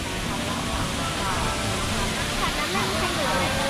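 Artificial waterfall at a zoo in Ayutthaya, Thailand, with steady broadband rushing water filling the whole stretch, close and loud, voices faintly mixed in.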